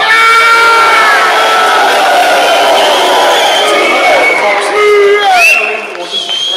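Large boxing arena crowd before Joshua v Klitschko roaring continuously, with whoops, shouts and whistles rising above a dense, loud wall of cheering.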